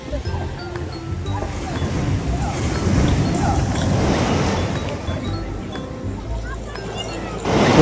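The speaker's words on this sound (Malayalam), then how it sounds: "തിരമാലയുടെ ശബ്ദവും കടൽക്കാറ്റും" Sea waves wash onto Pondicherry beach under a blowing sea breeze, a broad steady surf roar with wind buffeting the microphone, as a person talks over the scene.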